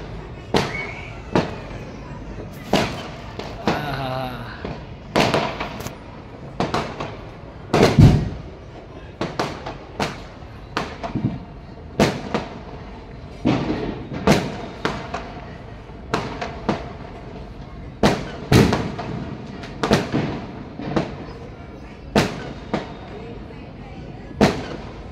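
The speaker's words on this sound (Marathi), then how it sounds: "फटाक्यांच्या आतषबाजी." New Year fireworks in Mumbai go off as a long run of sharp, irregular bangs and cracks, some near and loud, others more distant, over a low background murmur.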